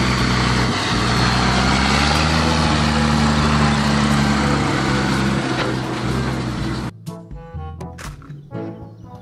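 A loud, steady engine drone with a low rumbling hum runs for several seconds, then cuts off abruptly, leaving a voice speaking briefly.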